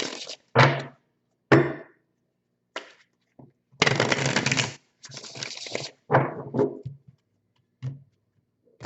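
A deck of tarot cards shuffled by hand in a quiet room, giving several separate bursts of riffling and tapping with short pauses between them.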